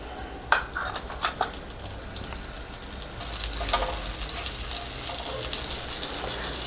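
Cumin seeds drop into melted butter in a pan with a faint clink, then a steady close sizzle builds and holds as they fry.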